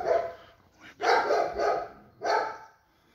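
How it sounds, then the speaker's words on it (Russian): A dog barks outdoors about four times in short, loud, fairly close bursts, with brief pauses between them. "Собак гавкает."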